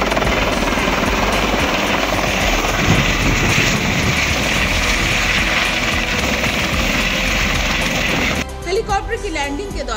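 A helicopter lands at a helipad for a wedding procession with a loud, continuous rotor roar and wind buffeting throughout, cutting off abruptly near the end.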